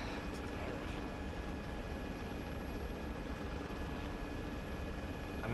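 An aircraft in a military video game rolls along a taxiway toward the hangar, its engine a steady, distant rumbling drone with a faint whine held throughout.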